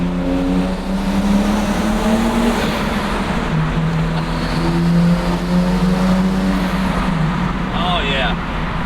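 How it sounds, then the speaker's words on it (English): A Nissan Laurel engine drones loud and steady through a pull, its tone rising, with a faint turbo whistle near the end and people talking over it. "That spool, it just sounds so good"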